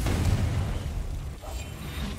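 A Confringo blasting spell explodes in the video game Hogwarts Legacy, a loud, rumbling, bass-heavy boom that fills the short moment and then fades slowly.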